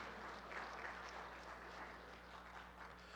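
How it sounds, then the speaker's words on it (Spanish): Church congregation applauding God during a Spanish-language sermon, a quiet, steady wash of clapping that holds evenly through the whole stretch. "Dale un fuerte aplauso al Señor"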